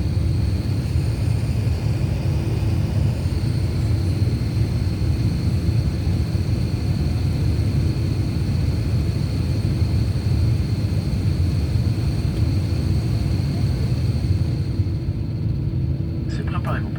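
Steady loud low rumble of an airplane cabin before takeoff, engines and air system droning continuously with a faint high whine, with a few brief clicks near the end.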